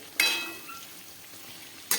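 Two sharp scrapes of a spatula against a pan, with a soft, steady sizzle of raw papaya stir-frying in between.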